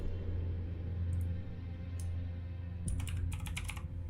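Keys on a computer keyboard tap in short clustered bursts over a low steady background rumble, a few isolated clicks first and then a quicker run of typing toward the end.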